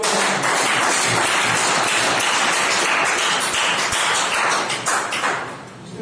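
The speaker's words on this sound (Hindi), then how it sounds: "एक बार अब आप लोग की जोरदार तालियों के बीच दीपक सर के लिए एक बार" A seminar audience gives a speaker a strong round of applause as he is welcomed onto the stage, a thick, steady burst of clapping that eases off toward the end.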